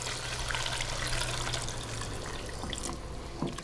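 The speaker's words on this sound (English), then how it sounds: "slowly pour this into the white sauce or the roux" Liquid poured slowly into a white sauce roux for chicken pot pie, a soft continuous trickle and gentle splashing heard faintly and close up.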